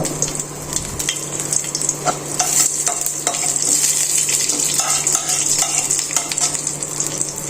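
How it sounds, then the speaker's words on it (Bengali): Mustard seeds tempering in hot oil for dal, a steady bright sizzle running for the whole stretch, with scattered sharp crackles and pops and a low constant hum underneath. "সর্ষেটা ফোড়ন হয়ে উঠুক ভালো করে তারপর দেবো কাঁচা লঙ্কা"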